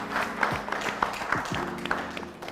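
An audience applauds after an entrepreneur's pitch presentation, a short burst of clapping under a voice with a fairly close, reverberant ring.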